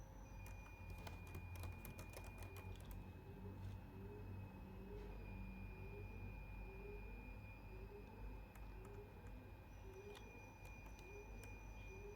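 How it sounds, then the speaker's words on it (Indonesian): Commands are typed on a computer keyboard, with quiet clicking keystrokes in bursts and a faint rhythmic pattern under a steady low hum and thin electronic whine. "di sini kita ketikkan langsung saja perintah-perintahnya"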